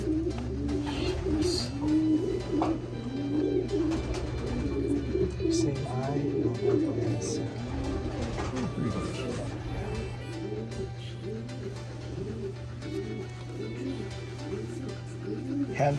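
Pigeons coo repeatedly in soft, rhythmic bursts close by, over a steady low hum, with occasional faint chirps.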